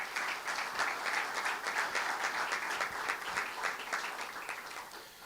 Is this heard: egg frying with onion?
no